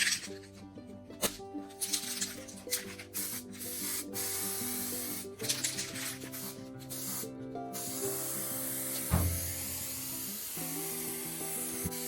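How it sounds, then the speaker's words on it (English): A steady hiss of rust converter sprayed onto the body of a Willys Jeep runs through the clip, close and fairly loud, over a background of tonal music. "Back here in this corner, I just hit it with a really good dose of rust converter."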